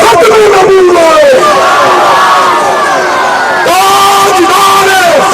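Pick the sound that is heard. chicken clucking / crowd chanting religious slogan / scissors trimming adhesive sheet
crowd chanting religious slogan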